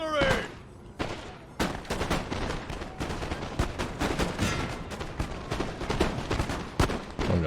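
Artillery and musket fire in the video game Napoleon: Total War, a dense crackle of volleys and sharp gunshots with occasional heavier booms, continuous and fairly loud.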